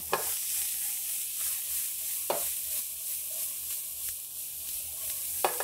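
Sauce simmering down in a pan, a soft steady sizzle broken by a few sharp spoon or pan clicks.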